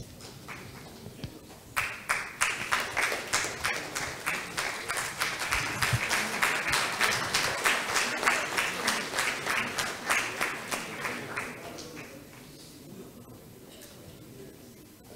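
Audience at a managerial excellence awards ceremony breaking into applause, starting abruptly after a quiet moment, holding as a loud dense roll of many hands with distinct sharp claps on top, then fading out toward the end.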